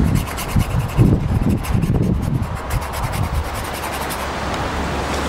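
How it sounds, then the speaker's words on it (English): Scratching a deck handle surface to rough it up for epoxy, a dry rasping rub repeated in short strokes, loudest early on and then fading to a steady low hiss. "So I just score that up, get some nice scratches in there."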